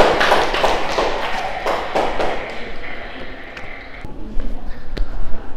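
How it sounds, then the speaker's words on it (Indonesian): A classroom group claps in a burst of quick, close hand taps that thin out into scattered claps, and people talk over the end. "Tepuk tangan untuk group 1."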